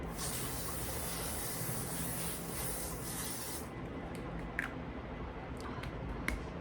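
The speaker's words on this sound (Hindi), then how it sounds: "तो पाउडर से पहले मैं एक बार ये वाला स्प्रे लगाऊंगी।" L'Oréal setting spray misted onto a face as one long, continuous close hiss lasting several seconds, then cut off, leaving faint clicks and soft handling noises.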